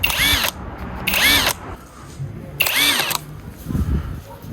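A budget brushless cordless impact wrench runs in three short, loud bursts, each with a high motor whine that spins up and cuts off, separated by brief pauses.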